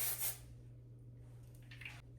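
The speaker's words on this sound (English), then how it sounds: "We're coming back to the holding spray, and I'm just going to spray a little" Hair holding spray gives a short, soft hissing burst close by, with a fainter spritz moments later over quiet room hum.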